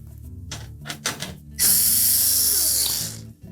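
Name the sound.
hex head screws removed from GE range back access panel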